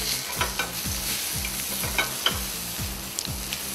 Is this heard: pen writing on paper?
no